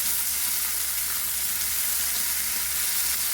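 Prawns frying in hot oil for a Kerala-style prawn curry give off a steady, dense sizzle and hiss that runs unbroken from start to finish, with no talking.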